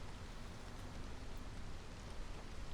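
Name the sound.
heavy rain in video game Against the Storm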